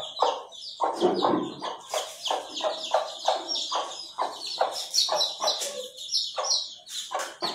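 Thai chicken chicks and hens fill the space with a dense run of repeated chirps and clucks, close and fairly loud, one call after another with hardly a pause.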